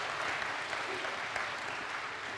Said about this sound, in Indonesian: Tepuk tangan buat Pak Kardi Ilyas.